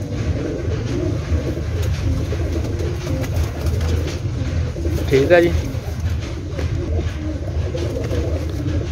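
Pigeons kept by a fancier coo softly and continuously close by, blended with a low rumbling background, while someone speaks briefly.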